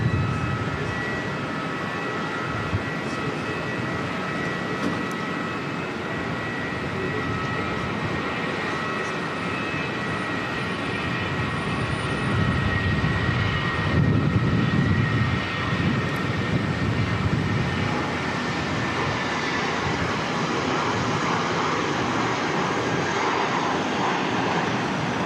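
A Jetstar airliner departing Auckland Airport for Christchurch gives off a steady, loud engine roar that holds for a long stretch and swells slightly midway, with no talking.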